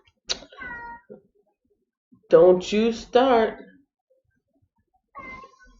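A cat meows insistently indoors in a few harmonic calls, loudest in a pair of long drawn-out cries mid-clip, with someone speaking briefly between them.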